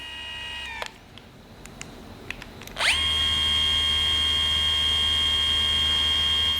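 A Mirka 3-inch cordless polisher (AROP-B) spins up with a rising whine after a few faint clicks, then holds a steady, close, high-pitched motor hum with no talking.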